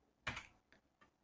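Three faint keystrokes tap on a computer keyboard, one sharper press followed by two lighter clicks in a quiet room.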